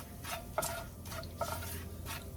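Spices being stirred in hot oil in a pan over a very low flame: soft scraping and faint sizzling, with two sharper clinks of the utensil against the pan, all fairly quiet.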